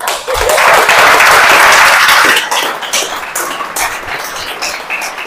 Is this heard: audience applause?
yes